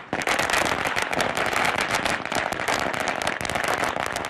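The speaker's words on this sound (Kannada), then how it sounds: "ಪಟಾಕಿ ಸಿಡಿಸಿ ಸಂಭ್ರಮಿಸಿದರು." A long barrage of firecrackers cracks and pops in dense rapid bursts at a street celebration in Karnataka marking new taluks being declared, loud and continuous throughout.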